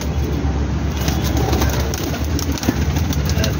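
Teddy pigeons cooing in a loft in Jhelum, a steady low murmur of coos under a constant hum with an engine idling nearby, no talk.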